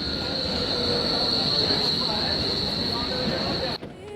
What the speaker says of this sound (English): Looks like this is my tram.